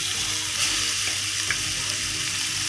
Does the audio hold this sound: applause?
no